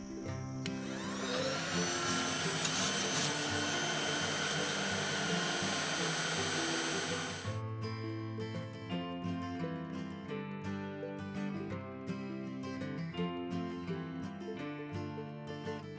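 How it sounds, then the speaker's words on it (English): A heat gun lights lump charcoal in a Big Green Egg, making a loud, steady whirring blast for about seven seconds before cutting off, with musical tones following. "There's many different ways to light the lump. Do whatever works best for you. I use a heat gun."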